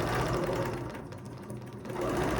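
Sewing machine runs close by as it stitches a quilt guided along a ruler, a steady fast whirring needle clatter that slows briefly midway, then picks back up, with no talk.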